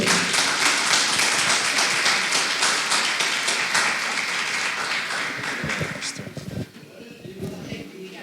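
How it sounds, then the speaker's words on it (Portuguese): A church congregation applauds during a worship service, dense clapping that fades after about six seconds into scattered claps and murmured voices. "Aplauda o Senhor."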